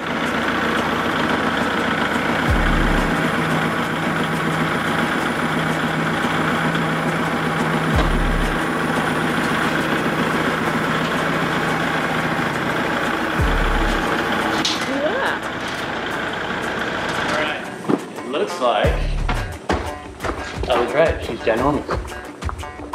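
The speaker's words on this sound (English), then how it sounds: "I'm going to hook the chain to the tractor, and then just get her all hooked up and just lift her out of the truck with the tractor." A tractor engine idles close by with a steady low rumble while it lifts a large hog from a truck, broken by periodic heavy thumps and then clanking handling noises toward the end.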